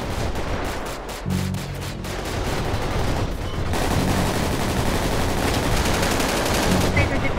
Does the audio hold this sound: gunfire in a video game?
yes